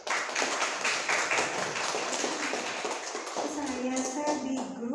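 Rhythmic hand clapping keeps a steady beat through most of the moment, mixed with voices and a sung tone near the end.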